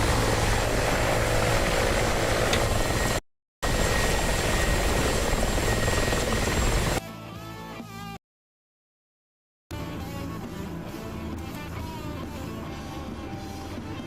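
A Black Hawk helicopter rotor drones in a war video game set in Syria, a steady loud thrum that drops out briefly, then returns quieter and more muffled after a longer silence.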